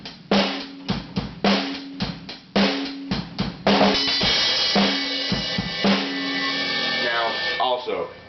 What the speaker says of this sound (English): you can break it up between the bell and the snare